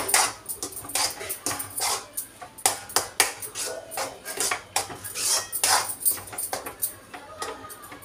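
A utensil mixes salt into suran chokha, mashed elephant foot yam made with mustard oil, giving a run of close, irregular scraping and clinking strokes against the dish.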